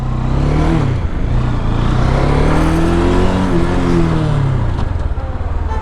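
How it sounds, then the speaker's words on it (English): Bajaj Dominar 400 motorcycle, an older 35-horsepower model, starting up in neutral and settling into a steady, loud close-up idle with rising and falling engine tones, no talking. "So it starts only in neutral, which is pretty weird."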